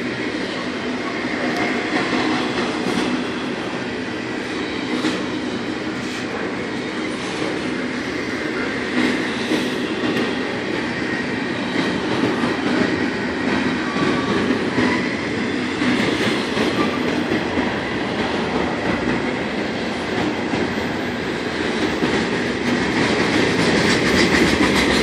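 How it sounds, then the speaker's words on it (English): A Norfolk Southern 227 freight train with an SD40E locomotive in tow passes near a crossing in Charlottesville, Virginia, a loud, continuous rumble with clattering wheels and rail noise lasting throughout. "then I saw the train coming"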